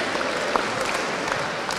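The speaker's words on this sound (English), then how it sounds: "Can we give our referees an incredible round of applause?" A hall crowd applauds the referees after a U19 basketball tournament final, a brief burst of dense, steady clapping.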